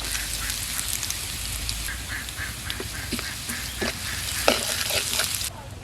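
Chopped garlic sizzles steadily in hot oil over cumin seeds, a dense continuous frying hiss with occasional stirring scrapes, close and fairly loud, no voices.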